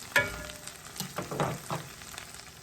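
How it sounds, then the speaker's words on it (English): Minced garlic and scallions sauté in a hot pan, a close, steady sizzle broken by several sharp scraping stirs of the spatula, with no talking. "let these come to a saute for about maybe 2 minutes"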